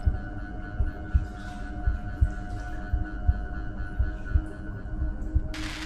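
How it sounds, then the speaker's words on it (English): A heartbeat heard from inside a flotation tank, with low, muffled thumps in a slow, regular rhythm over a steady hum, close and alone. "my heartbeat sounds so much louder than it does"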